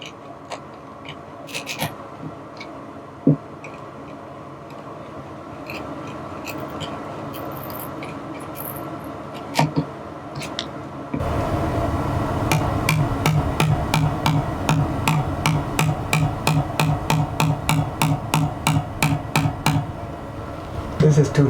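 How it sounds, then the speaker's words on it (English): A chisel chips away at an opening in the wall of a 2022 Airstream Interstate 19, starting as scattered taps and scrapes and settling into a fast, steady run of sharp close strikes over a low background hum. "Just chisel it out now, piece by piece."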